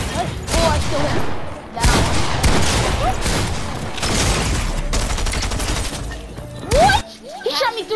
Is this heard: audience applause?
no